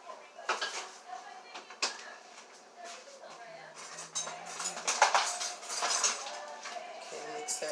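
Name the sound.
mixing seasoning into eggs in a bowl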